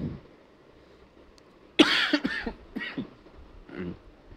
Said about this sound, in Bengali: দুঃখিত আমি, আমার কাশি উঠলো হঠাৎ করে।